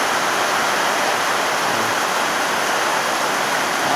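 Steady heavy rain pours down in the early morning as a storm arrives, a dense continuous hiss of drops close by with no break and no voices.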